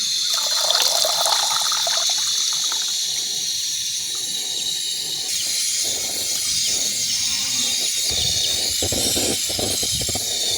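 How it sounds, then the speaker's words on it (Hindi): Water in a cooking pot on a stove as washed spinach is dropped in for boiling, a steady watery rush and trickle with splashy surges, fairly close and continuous with no talk. "पालक को हम अच्छी तरह से धोकर"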